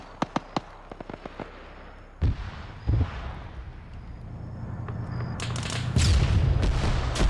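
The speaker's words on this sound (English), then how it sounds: "Already hearing gunfire." Video game gunfire: a quick string of sharp shots, then heavier booming blasts and a growing rumble of distant fire.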